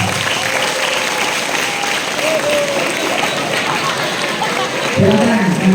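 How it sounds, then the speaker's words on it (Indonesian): Audience applause for a speaker at an entrepreneurship talk show, a steady, dense crowd clapping sustained throughout, with voices rising briefly near the end. "kita berikan tepuk tangan untuk pemateri kita"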